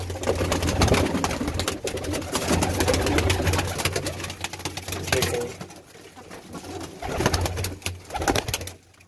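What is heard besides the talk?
pet pigeons cooing in a loft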